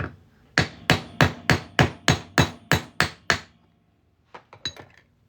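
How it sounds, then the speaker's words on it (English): A 1964 half dollar coin is hammered into a ring: ten loud, evenly spaced metallic blows in steady rhythm, a pause, then a few lighter, quicker taps. "All right, we're gonna hammer it on through."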